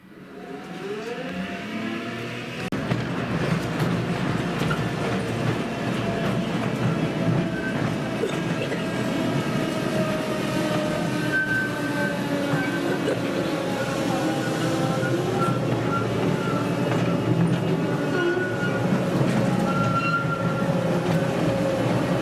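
A mine train rolls steadily along rails in an underground salt mine, a continuous rumbling roar with faint metallic squeals and clatter, no voices.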